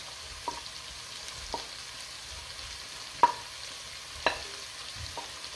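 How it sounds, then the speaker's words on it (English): Onions stirred and frying in a pan for a vegan curry sauce, a faint low sizzle underneath a handful of sharp spatula knocks against the pan spaced about a second apart. "So you stir it 3 to 5 minutes until it's brown, and then you add your onions"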